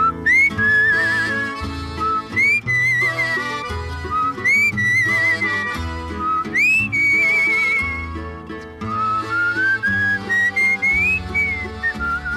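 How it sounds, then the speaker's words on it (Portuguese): A bright, sustained whistled melody rises and dips over full instrumental backing with bass and chords, steady and prominent throughout. "assobiando a canção."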